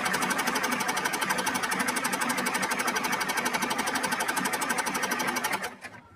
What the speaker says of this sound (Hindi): अब तो इसकी बुकरम के साथ साथ आपने इस तरह से रखते हुए इसको सिलाई करना है